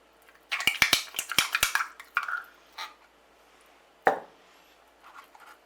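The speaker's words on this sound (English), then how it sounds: "We now want to get our raspberry jam, and I like to really mix it up well first" A spoon stirs raspberry jam in a jar, clinking and scraping against the glass in a quick burst of taps, followed by softer scrapes and one sharp knock, close and fairly quiet.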